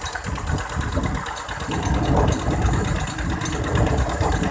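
A small engine water pump pushes water into a rice field through a short pipe, a steady close chugging drone with rough mechanical rattle that swells and dips slightly, no talking.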